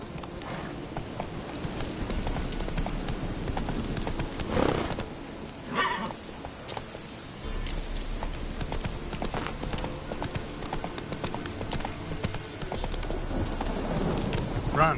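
Roach the horse gallops in The Witcher 3 through rain with distant thunder. Steady hoofbeats carry the whole stretch, broken by a couple of neighs and snorts.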